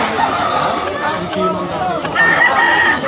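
Several roosters, including fighting cocks, crow over a busy background of clucking and chatter at a pet market in Malabon, Philippines, with people talking nearby.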